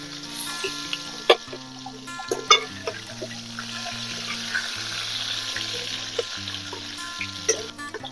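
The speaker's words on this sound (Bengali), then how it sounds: "এখন পটলগুলো একটু আমি লাল লাল করে ভেজে নেব।" Pieces of pointed gourd fry in hot oil with a continuous crackling sizzle, punctuated by sharp clinks and scrapes of a spatula stirring in the pan, close and alone.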